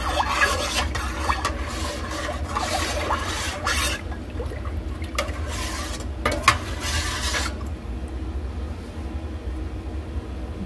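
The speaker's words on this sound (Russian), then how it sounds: "Хорошо размешиваю." A spoon stirring homemade curd with cream in a bowl, giving soft scraping, rubbing strokes in irregular bursts over a low steady background hum, close and moderately loud.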